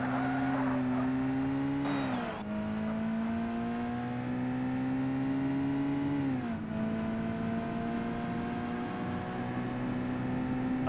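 A race car in the original Forza Motorsport on the original Xbox drones at high revs, a steady buzzing engine note with two quick upshift dips and a brief squeal, loud and continuous.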